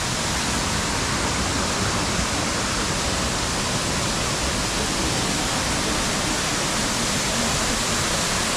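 Waterfall near Gangtok, Sikkim, heard as a dense, unbroken roar of rushing water, loud and close, steady throughout with no voices.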